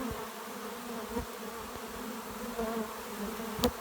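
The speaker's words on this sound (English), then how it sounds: "This swarm's been balled up on the bottom, will not go in the box." A honeybee swarm balled up under a hive box buzzes steadily at a low, faint level, a soft continuous drone with a few louder bees passing close.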